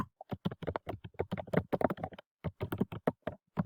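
Rapid, irregular clicking of computer keyboard keys while entering a place name into a search box, with brief pauses between bursts of keystrokes, close and moderately loud.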